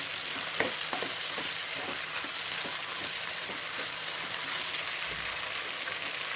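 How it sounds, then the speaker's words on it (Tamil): Vegetables sauté in a pan with a constant close sizzle, while a spoon stirs them with a series of light scraping taps. "இதையும் போட்டு நல்லா ஒரு கிண்டி கிண்டிட்டு"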